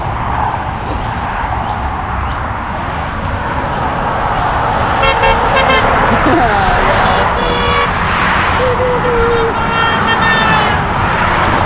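Passing cars on a road honk repeatedly in short bursts and longer toots over steady traffic noise, with people talking and cheering close by.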